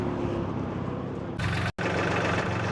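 A mini tractor engine arrives from another sales lot, a steady broadband engine rumble that abruptly gets louder and brighter partway through, cuts out for a split second, then carries on at close range.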